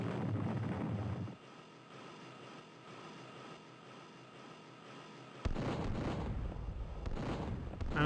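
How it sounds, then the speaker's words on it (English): Mines in the zombie shooter 1 Million Zombies burst upward and detonate, giving loud booming blasts at the start and again in a second burst near the end, with a quieter rumbling stretch between. "And there's mines that shoot up and explode."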